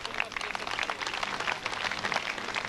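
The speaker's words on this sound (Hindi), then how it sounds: "आप तालियां बजाएंगे तो भरपूर मजा देंगे" Audience applause at a comedy gathering, a dense steady wash of many hands clapping that carries evenly through the moment with no pauses.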